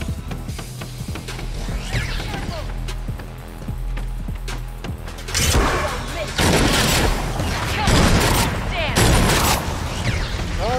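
Rapid gunfire in the video game Agents of Mayhem, a spoken voice over mechanical game sounds at first, then loud bursts of shooting crackle in repeated volleys, growing denser toward the end.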